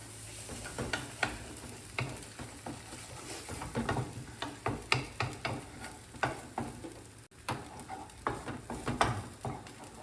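Two eggs scrambled in a pan over high flame: a steady sizzle runs under repeated scraping stirs of the spatula, coming in quick irregular strokes throughout.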